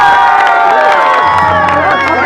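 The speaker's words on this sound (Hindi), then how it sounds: "बहुत अच्छे। अब तालियां।" A crowd at an Eid ul-Fitr gathering in a Punjab village cheers and shouts loudly and continuously, a dense wall of voices with little sign of distinct clapping.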